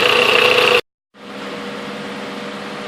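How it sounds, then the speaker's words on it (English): A 2007 Toyota Camry engine, freshly cleaned through the air intake and throttle plate, runs with a steady close hum that cuts out briefly into silence, then resumes at a slightly softer, even drone. "The engine was running a little rough beforehand, but now when I rev it, it's starting to sound really good."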